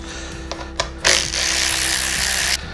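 Tools work on Torx T30 bolts holding the headlight of a Husqvarna 701 motorcycle: a few light clicks of a ratchet, then a brief steady whir of a small power driver close by.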